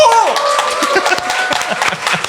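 Studio audience on a Korean current-affairs talk show clapping and cheering, a steady dense patter of claps with voices whooping over it, loud and close throughout.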